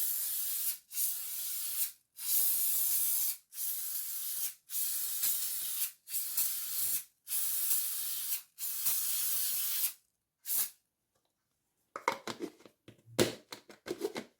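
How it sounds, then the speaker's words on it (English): Release spray greasing cake moulds in a series of about nine sustained hissing bursts separated by short pauses, followed by a flurry of quick clattering handling sounds, close and clear. "Now I've got my seal spray again"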